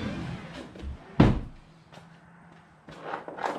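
A long, 8-foot door on a tool trailer makes a sharp thump as it shuts or opens, among nearby knocks and shuffling handling noises, with no talking.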